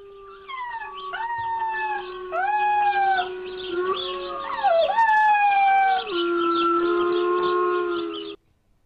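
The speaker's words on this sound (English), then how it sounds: "This week's viral video shows a puppy being traumatized by internet wolves" Puppy howling along with recorded wolf howls, several long wavering overlapping howls rising and falling close by, then a sudden stop, with no talking.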